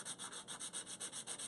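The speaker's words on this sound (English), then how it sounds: "I'm just lightly taking any marks off with the drill." An electric nail drill buffs marks off dip powder nails in quick, even strokes, a soft rhythmic whirring rasp that pulses about seven times, close and alone.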